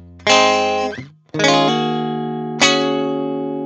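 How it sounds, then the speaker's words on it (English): A Fender Mustang electric guitar through an amp simulator plays clean chords, a few separate strums each ringing out, close and fairly loud with no other sounds. "It's a Fender Mustang going into a Milkman amp sim in Logic"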